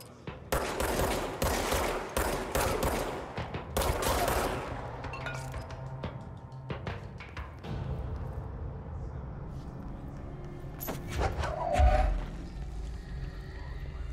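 Rapid bursts of gunfire from the video game Control, dense fusillades in the opening seconds that thin into scattered shots and rumbling impacts, with one louder blast near the end.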